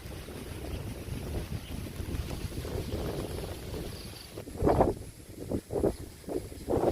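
Strong wind buffets the microphone at a beach, a steady roar with heavier gusts rising and falling in the later seconds, close and loud, with no talking.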